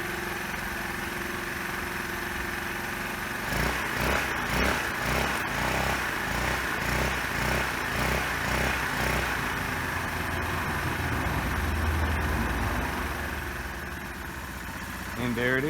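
A cheap Roketa 150cc moped engine runs close by, idling with a buzzy putter, then revs in a series of rising, pulsing bursts before settling back toward idle.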